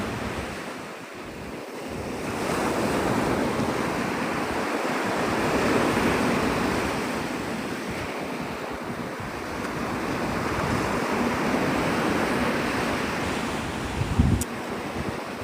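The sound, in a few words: ocean waves breaking on Navarre Beach, Florida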